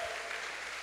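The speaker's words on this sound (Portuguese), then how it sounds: "Vamos aplaudir aí a Jesus pelos homens comprometidos." A church congregation applauds in a brief, faint burst of clapping that continues evenly for under a second.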